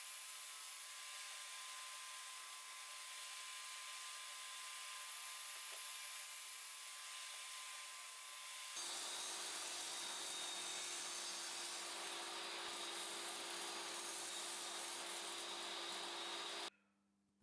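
A table saw cuts the central slot of a homemade sliding crosscut table in several passes of about 10 mm: a continuous whining drone that shifts to a rougher, fuller tone midway, then stops abruptly.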